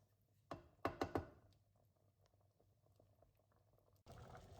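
Quiet bubbling of broccoli cheddar soup in a pot, with a few sharp clinks and knocks near the start and a louder burst of noise at the end.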